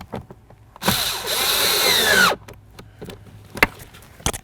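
A power driver tightens the blower motor resistor mounting screw on a 2006-12 Ford Fusion. It gives one loud, close whir lasting about a second and a half, followed by a few light clicks and taps.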